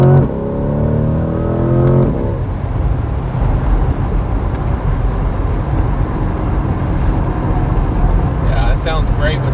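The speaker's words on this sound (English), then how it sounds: "Sounds great, but that performance exhaust is a must-have option" A 2022 Corvette Z51 with the performance exhaust blips its engine in a brief loud rev at the start, then rumbles on as a low background drone while a person talks over it.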